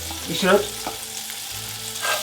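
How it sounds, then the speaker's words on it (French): Chopped shallot sweating in melted butter in a pan, a soft steady sizzle with a few clinks and scrapes of a spatula stirring, close and quiet without talk. "on va faire suer l'échalote"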